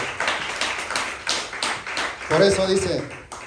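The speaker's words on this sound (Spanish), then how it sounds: "Denle fuertes palmas a nuestro Señor Jesucristo en esta tarde" A church congregation claps together in a rhythmic burst, the sharp claps fairly close and mixed with a voice speaking over them.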